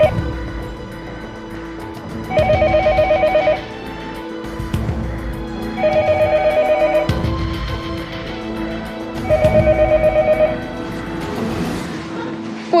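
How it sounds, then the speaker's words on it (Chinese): A landline telephone rings in three repeated bursts of electronic trilling, each lasting about a second with gaps between, heard indoors over a low background hum and some speech. "没事，我用座机，先打个电话回科室。"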